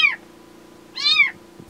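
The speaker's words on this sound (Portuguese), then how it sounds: "Um miado de socorro." A kitten trapped inside a city storm drain cries for help, two distinct plaintive meows close by, a short one and then a longer drawn-out one, with a steady low hum underneath and no talking.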